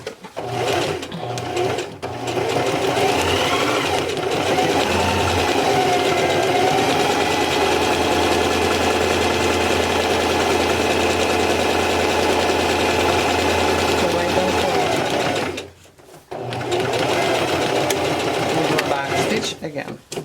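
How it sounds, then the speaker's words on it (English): A sewing machine runs a half-inch stitch with a back stitch along a drawstring backpack seam, whirring steadily and close up for most of the clip before a brief pause near the end, then resuming. "I'm gonna start 1/2 inch stitch, and of course we're gonna do our back stitch"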